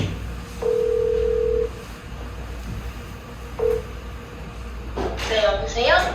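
A telephone is dialed to place a live call during a youth policy forum: a long touch-tone beep, then a short one a few seconds later, followed by a brief burst of line noise, all over a quiet background hum.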